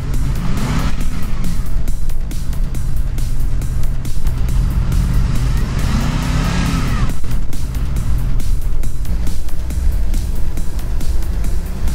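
An off-road car's engine revs hard in a sandy quarry, surging and dropping several times in a loud, close, continuous roar with strain and mechanical rattle.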